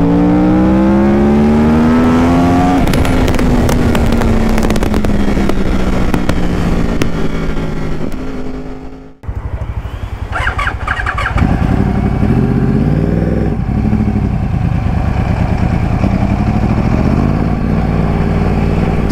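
A loud, close motorcycle engine revs up and idles, its exhaust rumbling continuously, with pitch rising and falling through throttle changes and a short dip midway.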